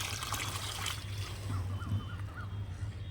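Green-tinged stored water poured out of a tin container outdoors, a steady trickling stream under a constant low hum.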